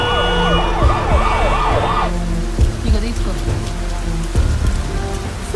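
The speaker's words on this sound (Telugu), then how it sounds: "అంబులెన్స్ సౌండ్ వినిపిస్తుంది కదా." An ambulance siren wails in a rising and falling cycle through heavy rain on a traffic-jammed road, then cuts off while steady rain hiss and scattered drops continue close by.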